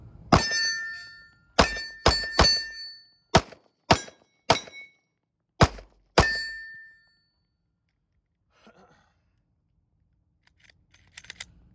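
Slide of a compact Smith & Wesson M&P 2.0 pistol being racked and worked, giving a series of about eight sharp, close metallic clacks over six seconds, followed by near silence with a few faint handling clicks.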